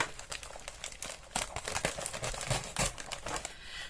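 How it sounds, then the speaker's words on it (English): Plastic delivery package being carefully cut open, a run of crinkly rustles and sharp slicing crackles at close range, with no talking. "I'm just going to carefully cut this open."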